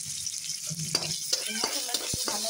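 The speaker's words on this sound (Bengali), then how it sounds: "মশলাটা একটু ভালো করে ভেজে নেব।" Spice paste of ginger, garlic, turmeric and chili frying in a pan, a steady close hiss of sizzling oil broken by several sharp scraping knocks of a spoon stirring against the pan.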